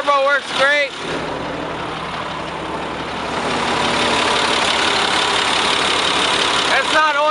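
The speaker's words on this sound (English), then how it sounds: "Look at that thing, running strong. Nice Caterpillar motor, turbo works great." The Caterpillar diesel engine of a Sterling reefer truck idles steadily and loudly at close range, with a steady rumble that swells slightly midway and short bits of speech at the start and end.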